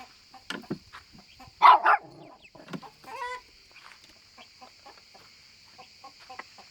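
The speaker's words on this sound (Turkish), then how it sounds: "Horoz bir şey istiyor." Hens cluck and a rooster calls in short bursts, with a few other farmyard bird sounds scattered through an otherwise quiet stretch.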